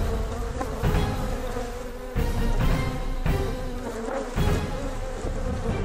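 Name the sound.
Africanized killer bees buzzing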